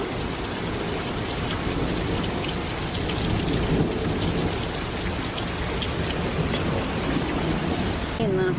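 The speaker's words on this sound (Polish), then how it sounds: "Co chwilę jest jakaś burza i to już jest następna." A thunderstorm with steady heavy rain pouring down on a house and garden, thunder rumbling through the downpour, and a brief voice near the end.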